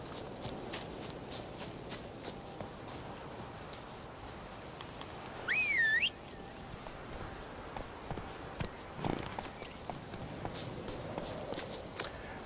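Horse hooves clip-clop in steady footsteps across the ground in the Witcher 3 video game, moderately loud, with a brief whistle-like call partway through and no talking.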